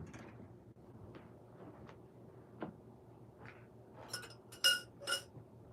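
Glass clinks left on a table from breakfast, a few light, bright taps near the end over quiet room tone, with soft handling knocks before them.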